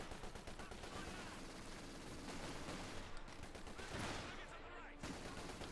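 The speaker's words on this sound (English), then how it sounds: "There you go, straight into the machine guns" Dense machine gun and rifle fire in a Company of Heroes 2 World War II battle, steady and loud throughout, with a caster talking over the shooting.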